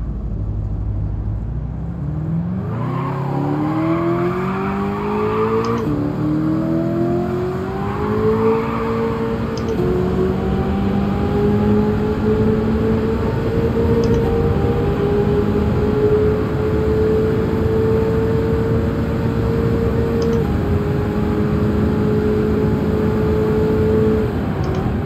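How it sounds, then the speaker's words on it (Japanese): A Lexus LC500 in Gran Turismo 7, swapped to an 8,000 cc LS7 engine with a high-revving turbo and tuned for top speed, roars continuously as it accelerates through the gears, its engine note climbing steadily under loud racing rumble. "LS7 のエンジンをスワップしてさらにカスタムし超高回転ターボを入れてみました。 それでは走ってみたいと思います。"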